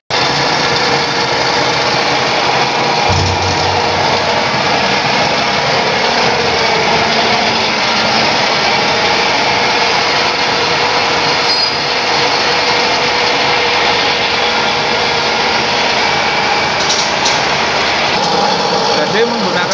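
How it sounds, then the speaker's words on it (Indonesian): A septic truck's vacuum pump runs off the power take-off, a steady, loud mechanical drone with a high whine that holds unbroken and close for the whole stretch. "Sedot di vakum, guys."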